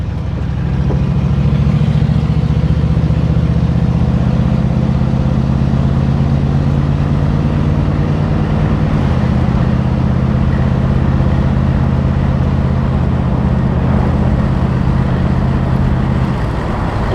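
A 1965 Ford Thunderbird engine drones steadily from inside the car while it is driven, a low constant hum with road noise and a slight shift in pitch partway through.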